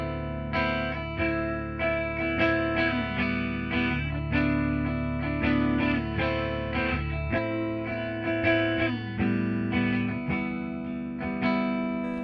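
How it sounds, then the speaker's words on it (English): A clean electric guitar, an ESP LTD EC-10 on its neck pickup, plays sustained chords and ringing notes in a steady rhythm, bright and close, with no voices. "very usable neck pickup as far as the clean tones goes"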